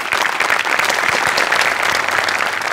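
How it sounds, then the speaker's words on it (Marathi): Loud, dense applause from a studio audience at a Marathi comedy show, steady clapping filling the whole stretch without pause. "आमिर हडकरसाठी एकदा जोरदार टाळ्या"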